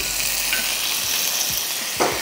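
Steady sizzling of curry leaves frying in hot oil, a bright continuous crackle and hiss with a few soft stirring knocks.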